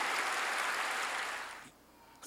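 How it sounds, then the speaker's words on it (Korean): A church congregation claps during a pastor's sermon: a dense, even patter of many hands that holds steady, then fades and stops, with a faint knock at the end. "박수 잘 치네"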